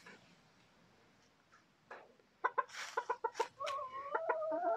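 Hens clucking close by in a coop in Thailand, a few soft scattered clucks building into a quick run of louder, sharper clucks and drawn-out calls.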